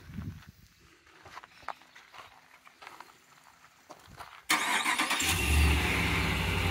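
A Lamborghini or Dodge RAM engine cranks and fires up after a few quiet clicks and rustles, then settles into a loud, steady rumbling idle close by.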